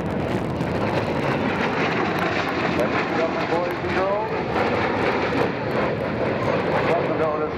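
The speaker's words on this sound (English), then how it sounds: "F-117A stealth fighter." Lockheed F-117A stealth fighter making a flyover at an air show at Otis Air National Guard Base, a loud continuous jet roar that swells as it passes, with an announcer speaking over it.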